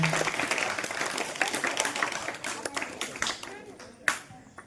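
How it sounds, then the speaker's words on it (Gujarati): Applause for two boys at a primary school Independence Day celebration, dense crowd clapping that runs the full stretch and tapers off with a final loud clap near the end. "આપણે આ બંને ભાઈઓને તાળીઓના ગડગડાટથી વધાવી લઈએ"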